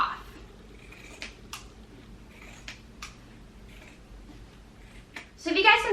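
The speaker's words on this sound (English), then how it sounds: "I'm just going to grab my scissors and cut right across just to get the bulk of that fabric off." Scissors cut straight across the thick denim of thrifted Levi jeans, giving a series of crisp, close snips and rustles that rise into a louder burst of cutting at the end.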